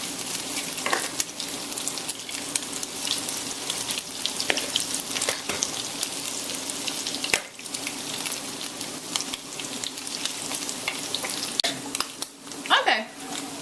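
Salmon patties browning in a pan give a dense, steady sizzle close up, with occasional utensil taps and a brief dip partway through, and no voices.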